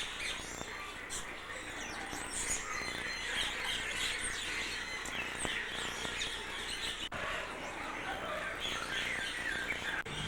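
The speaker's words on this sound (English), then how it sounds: "Really pretty birds." Many birds chirp and tweet busily together at a feeding spot in Cape Town, a continuous high, overlapping chatter with occasional squeals and squawks, fairly close and steady throughout.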